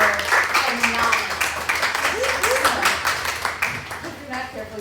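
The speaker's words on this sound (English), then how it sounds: "let's give her a round of applause" A round of applause from a meetup audience for a woman named Elizabeth, steady clapping over about five seconds with voices talking and calling out over it.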